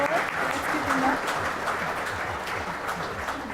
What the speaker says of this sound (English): A very well-deserved hand of applause.